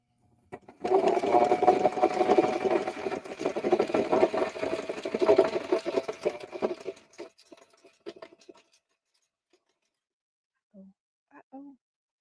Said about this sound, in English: I'm always scared when I start sewing.